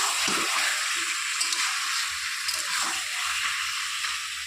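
Goat meat frying in a pan as quartered tomatoes go in, a steady bright sizzle and hiss throughout with faint low clatters and stirring knocks underneath.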